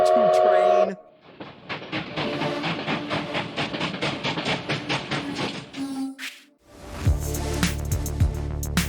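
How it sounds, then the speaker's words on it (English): Choo-choo train sound effect: a steady rhythmic chugging of a train running under a brief whistle, then a sharp break and a loud, droning horn-like blast as it resumes. "On aboard the choo-choo train."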